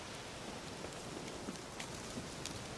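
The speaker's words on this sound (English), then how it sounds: "Looks like rain." Rain in the video game The Witcher 3 patters as a faint, even hiss with scattered soft drop ticks, continuous and without voices.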